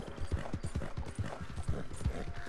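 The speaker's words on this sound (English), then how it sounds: "I really love the sound of the horse running." Horse hooves run in Red Dead Redemption 2, a steady loud galloping clip-clop with a driving beat that fills the whole stretch, with no voices over it.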